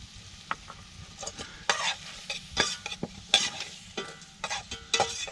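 Cooked, peeled wild prawns are stirred through in a hot pan at a beach cook-out, with close scraping and clinking stir strokes over a soft, steady sizzle.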